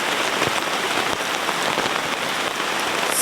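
Heavy rain falls on a camp with a tent awning, making a dense, steady, close hiss of drops that never lets up. No voices are heard.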